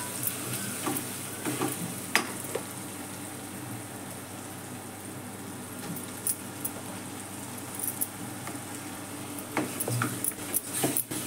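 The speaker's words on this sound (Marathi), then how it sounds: "परतून घेते चांगलं आणि मग वाटण टाकते त्यात." Spice paste sautéed in a pan with red chilli powder and garam masala for a prawn dish, a faint continuous sizzle broken by intermittent clinks and scrapes of stirring, close and without speech.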